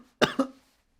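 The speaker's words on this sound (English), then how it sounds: "I've had a cough for the last 3 weeks nearly, and I still can't shift it" Two quick close coughs in a row, then the start of another at the very end, from a person who has had a lingering cough for weeks.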